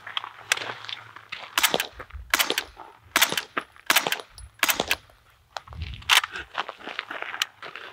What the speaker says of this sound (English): Let's have Scotty shoot first this time